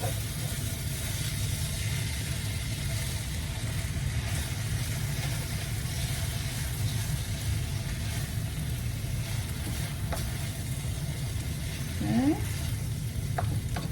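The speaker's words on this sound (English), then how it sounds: "You're gonna stir it for about another minute until it's well combined." Pineapple fried rice sizzling steadily in a hot pan while being stirred and scraped, a continuous close frying hiss with a few utensil scrapes near the end.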